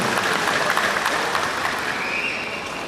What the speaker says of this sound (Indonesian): Tepuk tangan sekali lagi bagi